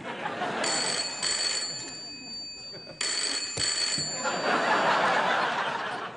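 A telephone rings on a late-night TV talk show set, with several clear bursts of bright ringing separated by short gaps, fairly loud, while an audience chuckles and laughs softly underneath.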